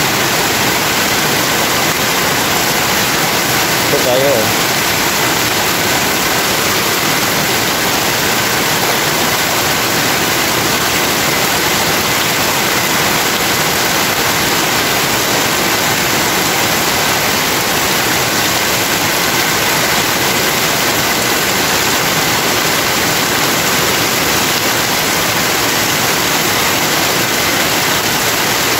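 Heavy rain pours down and water rushes along a drainage channel in a steady, loud, unbroken roar that lasts throughout, with a brief voice heard once beneath it.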